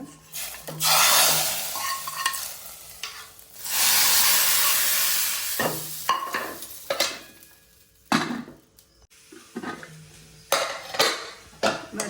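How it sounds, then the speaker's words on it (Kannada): A sudden loud hiss as hot tempering is poured into rasam, followed by a second burst, with pot clinks and stirring between them. "ಮಲ್ತಿನ ರಸಮ್ಗೆ ಈ ಒಗ್ಗರಣೆ ಪಾಡ್ಕ"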